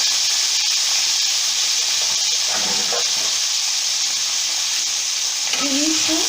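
Washed pumpkin pieces frying in hot oil for a sweet and sour kaddu sabzi, giving a steady, close sizzle and hiss that runs throughout, with a faint voice briefly near the end.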